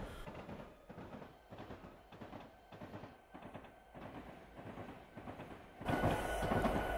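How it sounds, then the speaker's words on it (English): Train running on rails in the Train Sim Classic game on the Quakertown and Southern route, a steady rumbling clatter of wheels with rhythmic clicks, quiet and alone, swelling louder near the end. "I'm going to start slowing this train down a little bit."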